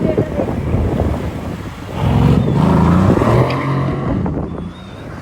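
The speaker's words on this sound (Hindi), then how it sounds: "यार गाड़ियाँ आ रही हैं यहाँ पे जा रही" Traffic on a road passing close by, with a louder vehicle swelling past mid-clip over wind buffeting on the microphone.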